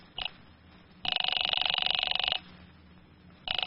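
A telephone bell rings in a radio drama, with one short ring at the start, a long sustained ring burst and another ring starting at the end, clear and close with no talk over it.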